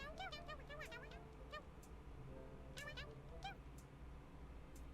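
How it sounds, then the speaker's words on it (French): Cartoonish cat meows from the Tinykin video game, several short rising and falling calls clustered near the start and again around the middle, over a steady game background and soft talking. "Je suis sûre que c'est un chat."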